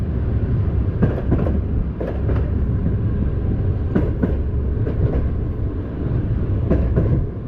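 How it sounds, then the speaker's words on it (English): A commuter train in Georgia rumbles steadily along the tracks, with repeated clacking bursts as the wheels pass over rail joints, continuous and fairly loud with no voices. "in the morning we took a commuter train back to Zestafoni"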